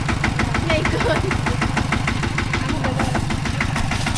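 A tractor engine runs close by at a steady idle, its rapid, even chugging knock loud and unbroken throughout.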